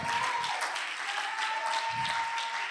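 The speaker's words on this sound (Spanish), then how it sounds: "¿Por qué no le damos un aplauso?" A church congregation applauds during a service, a soft, steady patter of many hands heard from a distance, with a faint sustained tone running beneath it.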